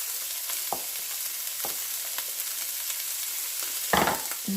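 Onion and pepper sizzle steadily in a hot pan, a close, continuous crackling frying sound with a few sharp clinks of a utensil stirring, and no talk.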